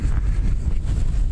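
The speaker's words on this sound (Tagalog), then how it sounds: "At mahangin." Strong wind buffets a microphone outdoors on a cold day, producing a loud, continuous low rumble with gusty surges and no speech.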